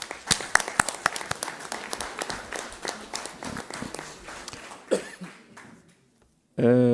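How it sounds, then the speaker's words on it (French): A room full of people clapping for several seconds at a community council meeting, dense and lively, gradually thinning out before silence and then a voice starting to speak. "Je crois qu'on peut applaudir le service com qui l'a réalisé"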